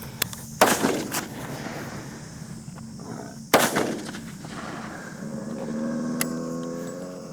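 Two loud, sharp rifle gunshots ring out several seconds apart during a hunt in Africa, each followed by a brief rolling echo, with quieter outdoor ambience between them.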